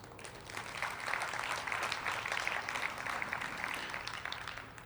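A large audience packed into a hall, over 2,000 people, applauding steadily for about five seconds, a dense even wash of clapping heard alone without speech.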